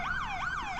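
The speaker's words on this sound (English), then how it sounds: "Law enforcement sirens are becoming a familiar sound in Hogg County." A law enforcement siren wails on a county road, rising and falling in a steady repeating sweep, clear and moderately loud with no voices over it.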